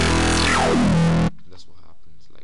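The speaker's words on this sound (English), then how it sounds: "In order to create the wobble, it's all about the cutoff moving," A Massive synth wobble bass, its filter cutoff sweeping downward in one loud, dense, buzzing pass before cutting off abruptly, followed by someone speaking.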